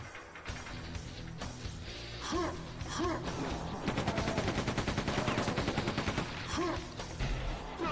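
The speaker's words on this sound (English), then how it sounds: "Who's throwing grenades at me?" Rapid weapon fire and blasts from the video game Quake 2 pile up in a dense, chaotic barrage, with bursts of repeated shots and sharp explosive hits following one another without pause.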